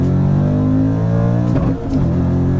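Audi RS4 accelerating hard from a standing start, engine roaring loud and close with a steady rising drone, a brief dip around a gear change before the pull resumes.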